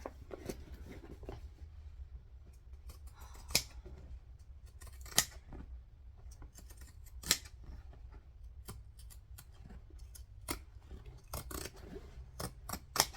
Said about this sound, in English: Now before we turn it through, zigzag scissors again.